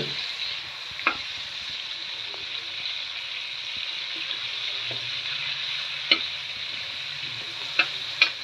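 Tomatoes with turmeric and spices fry in a pan with a steady, soft sizzle, broken now and then by a few light clicks of a stirring spoon.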